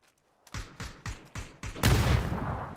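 Gunfire in the battle royale game PUBG during a competitive scrim: a quick run of five or six sharp rifle shots in steady rhythm, followed by a louder burst of heavier fire or explosion, punchy and close.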